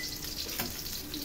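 Chicken pieces dropped into a pan of sautéed onions for adobo, giving a soft, steady sizzle with a brief flare of crackling, fairly quiet and without voices.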